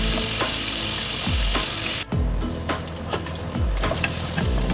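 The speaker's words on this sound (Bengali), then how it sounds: "তেল দিয়ে নুন হলুদ মাখিয়ে রেখেছিলাম চিংড়ি মাছে, ভালো করে ধুয়ে সেটা আমি কড়াইয়ে ছেড়ে দিয়েছি।" Shrimp rubbed with salt and turmeric frying in hot oil in a wok, a steady loud sizzle with repeated scraping and clanking of a spatula stirring against the metal.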